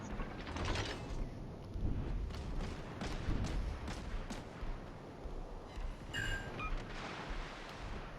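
Heavy broadband rumble and booming impacts from a naval battle in the video game World of Warships, with a torpedo strike on an enemy ship and a brighter crack of hits near the end. The clatter is dense and continuous throughout.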